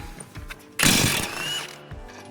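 A ratchet wrench works on the 18mm brake caliper bolts of a Chevy Equinox, producing one close, loud burst of rapid clicking lasting under a second amid quiet shop background.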